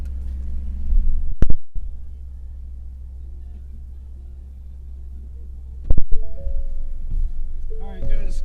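In-cabin sound of a 2018 Ford F150 pickup truck driving, a low steady engine and road rumble with a couple of sharp knocks and a voice speaking near the end.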